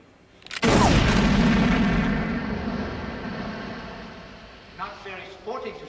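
A single loud, booming gunshot from the 1982 film Blade Runner, followed by a long fading echo. Voices speak over the tail end.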